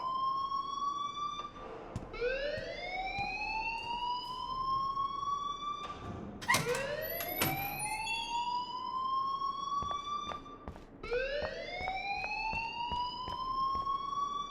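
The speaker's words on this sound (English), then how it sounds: "please turn off that alarm since that's your job" Fire alarm in the video game Life is Strange, a rising electronic siren tone that sweeps upward over and over, loud and steady, with a louder clattering burst near the middle.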